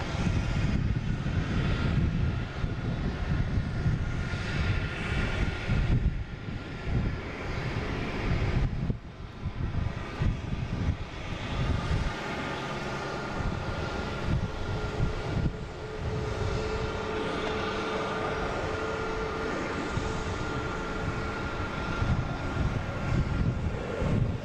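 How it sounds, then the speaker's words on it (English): An American Airlines Airbus A319 arriving at Boston Logan, heard as a steady, loud broadband jet roar with rumbling low end that holds throughout. "we have American Airlines coming in from Reagan at A319"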